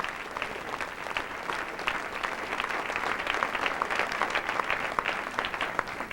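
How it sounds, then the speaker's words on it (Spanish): Congregation applauding inside a church service, a dense, steady patter of many hands clapping at moderate distance for several seconds, without speech over it. "Puede darle un aplauso al Señor si así lo desea."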